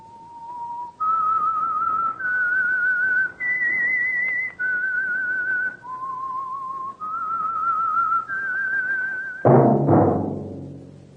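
A person whistles a slow melody of sustained, clear notes stepping up and down in pitch, ending with a short burst of noise.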